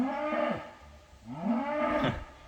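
A vocal farm cow moos twice, each call a long, loud, drawn-out low bellow with a falling tail, the two separated by a short pause.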